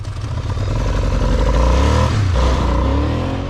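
A motorcycle that was just jump-started on a freezing cold day idles loudly close by, with a steady, throbbing engine note, mechanical clatter and a slight rise in revs midway.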